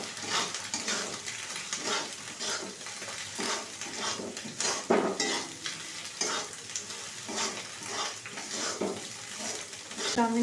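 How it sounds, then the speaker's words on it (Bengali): Potato, onion and egg frying together in a pan for chowmein, with a spatula steadily stirring and scraping through a continuous sizzle and occasional clinks of metal on the pan, close and moderately loud throughout. "আলু পেঁয়াজ ডিম সব একসঙ্গে ভালোভাবে ভাজা ভাজা হয়ে গেছে"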